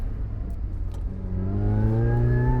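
Mazda MX-5 roadster engine accelerating on throttle through a gravelly corner, a steady mid-pitched drone that climbs in pitch as the revs build, heard close and alone for under three seconds.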